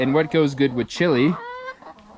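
A Basque hen clucking, a few short close clucks following spoken talk, fairly quiet and alone at the end.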